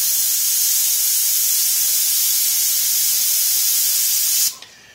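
An airbrush sprays paint freehand over a skull stencil, a steady close airy hiss that runs continuously and then cuts off abruptly near the end.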